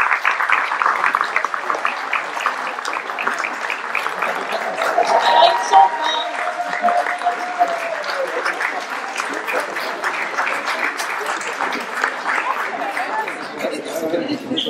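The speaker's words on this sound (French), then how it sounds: "Je vous demande de les applaudir." An audience at a town ceremony in Ploërmel honouring local sports teams applauds the PFC under-15 squad, a steady dense wash of clapping lasting throughout with a voice speaking over it.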